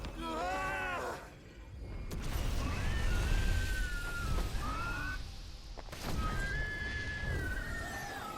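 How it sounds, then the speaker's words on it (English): Sleipnir, the six-legged horse from the video game Final Fantasy XVI, gives several loud whinnies, with a booming, mechanical game soundscape between the calls. "Look at this horse, how many legs it has?"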